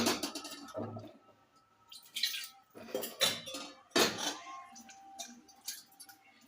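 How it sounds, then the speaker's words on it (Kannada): Chicken is tipped into a cooking pot together with its water in a home kitchen, giving quiet bursts of wet splashing and metallic clatter against the pot, with short pauses between. "ನೀರು ಸಮೇತ ನಾನು ಚಿಕನ್ನ ಹಾಕ್ಕೊಂಡು ನೋಡಿರಿ"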